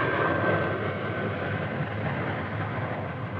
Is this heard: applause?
no